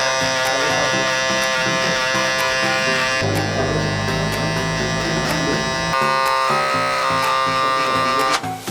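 An electric shaver buzzes continuously as it cuts hair for a medium skin fade, a close steady high-pitched whine that shifts tone as it moves across the head.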